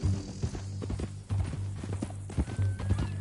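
Horse hooves clip-clop at a steady walking rhythm in the video game Red Dead Redemption 2, close and moderately loud, with no speech over them.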